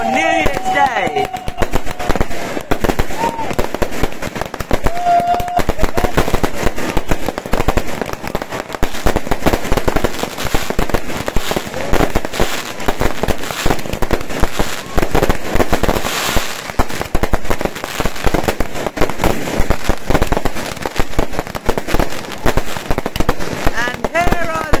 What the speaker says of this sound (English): Is the firework display for New Year's Day.